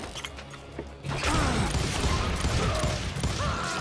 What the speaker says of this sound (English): I gotta reload!